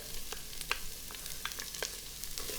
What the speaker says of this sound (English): So here the onions are going to go in. You'll hear that sizzle a little bit.